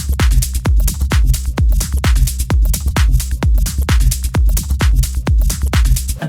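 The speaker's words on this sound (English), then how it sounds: "make this generic sounding drum loop into something that carries a sonic signature" Generic techno-style drum loop with punchy kicks and bright hi-hats and snares repeating in a steady, fast, even pattern, loud and dry with no voices.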